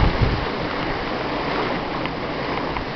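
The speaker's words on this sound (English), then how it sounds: "Here's a bit of a white water wave. Here's a big wave." Rushing water and white-water waves churn steadily around a moving sailboat hull, a continuous loud wash with gusty wind noise, no voices.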